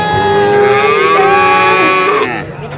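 A cow lets out a single long, loud, close moo that rises and falls in pitch for about two seconds before fading away.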